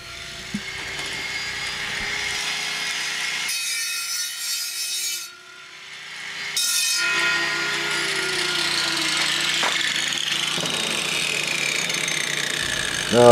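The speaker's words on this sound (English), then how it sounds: "Take our angle grinder and go around the inside, because there are a lot of sharp edges in here." An angle grinder cuts around the inside top of a metal can, whirring and rasping steadily for several seconds, pausing briefly midway, then resuming with a bright, gritty cutting tone.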